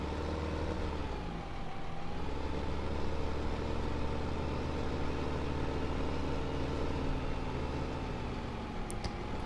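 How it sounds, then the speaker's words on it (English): A tractor engine drones in Farming Simulator 2015 as the machine is driven around the farm, a steady, loud, even rumble that holds for the whole stretch with no talking over it. "Let's go in the tractor."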